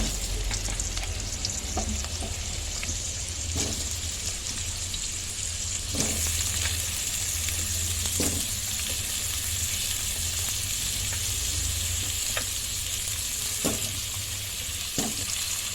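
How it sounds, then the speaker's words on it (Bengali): Cumin seeds and garam masala sizzle and crackle in hot oil in a pan, a steady close frying hiss with occasional sharp pops and stirring scrapes. "জিরে ফোড়ন দিলাম, তারপরে একটু গরম মশলা ফোড়ন দিলাম।"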